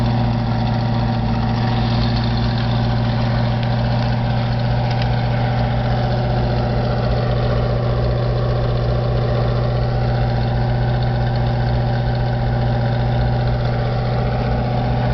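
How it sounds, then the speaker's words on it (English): A 1928 Ford coupe hot rod idling, its exhaust giving a steady, loud, low rumble recorded close behind the car, continuous and unchanging for about fifteen seconds with no talking. "I'll let you hear the exhaust and see what it looks like."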